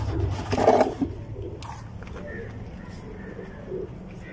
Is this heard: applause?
no